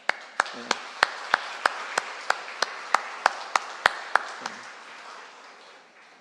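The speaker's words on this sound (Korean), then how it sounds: "우리 격려의 박수로 환영하겠습니다" Claps ring out in a steady, evenly spaced rhythm in a church as a new member is welcomed, sounding sharp and fairly close over a soft background murmur.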